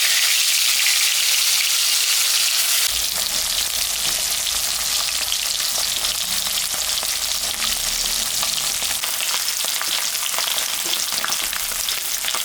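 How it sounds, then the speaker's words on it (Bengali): Rohu fish sliding into hot oil in a home kitchen for a Bengali fish curry, setting off a sudden loud crackling sizzle after a few quiet seconds that keeps spluttering and popping close by. "আমি এখন মাছটা ভাজবো।"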